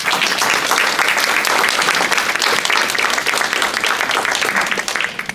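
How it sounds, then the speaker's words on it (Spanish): Loud, sustained applause from an audience welcoming a speaker at an evening tax and accounting lecture, a dense continuous wash of clapping that begins to taper off near the end. "lo cual pido un fuerte aplauso"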